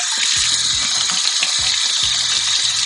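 Tap water running steadily over money tree (Pachira aquatica) roots in a sink, a constant, close, loud hiss and splash with faint knocking underneath, cutting off abruptly at the end.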